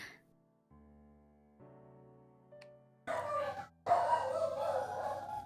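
Several pet dogs bark in two sharp, loud bursts near the end, following a quiet stretch of soft game tones, close to the listener and overlapping into a brief commotion.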